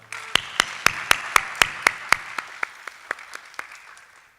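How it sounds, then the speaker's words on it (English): A closing-event audience at Project Imhotep 2022 applauds with a run of sharp, distinct claps, about a dozen in a steady rhythm, close and fairly loud, thinning out and fading toward the end. "Can we give one more round of applause for Sky?"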